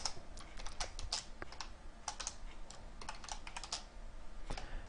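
Quick bursts of typing on a computer keyboard while coding in C++ with Qt, crisp close keystrokes in rapid irregular runs, with no talk.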